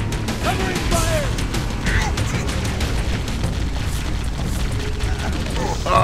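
Grenade blasts and battle noise from the video game Halo, booming bursts and crashes rolling continuously under dense gunfire and game sound, loud and busy throughout with no clear gaps.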